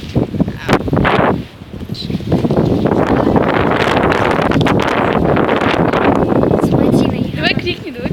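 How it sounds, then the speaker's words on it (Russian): Strong wind buffets a microphone outdoors, a heavy continuous rumble and roar that dips briefly near the start, then holds steady and loud, with voices talking under it. "Если плохо слышно, то это очень сильный ветер."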